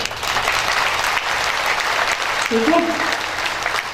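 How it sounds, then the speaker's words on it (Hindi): An audience claps steadily throughout, a dense broadband patter at a spiritual gathering, with a brief spoken voice near the end. "ताली बजाइए,"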